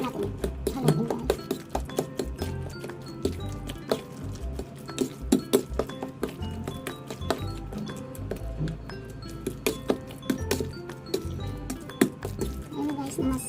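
A utensil stirs mashed tofu with salt and a raw egg in a bowl, giving repeated clinks and scrapes against the bowl at an irregular pace, steady and moderately near, with no talking.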